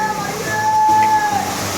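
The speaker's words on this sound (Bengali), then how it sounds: "খুবই সুন্দর একটি ঝর্ণা।" A steady, loud roar comes from Jherjheri Falls, swollen with extra water after rain, with a thin whistle-like tone briefly riding over it.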